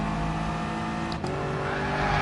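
Video game car at full power spinning its rear wheels, a loud sustained engine roar with a brief dip and shift partway, steady and continuous with no voices.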